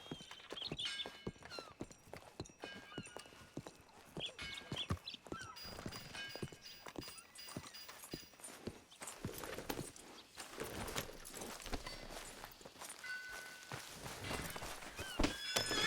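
Horses in the Red Dead Redemption 2 video game clop along at a walk with irregular hoof thuds, an occasional neigh and scattered knocks, all faint and fairly close, with no talking.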